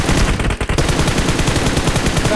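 Rapid automatic gunfire in the mobile game BGMI, a dense, loud, continuous stream of shots with a brief break near the start, heard alone without talk.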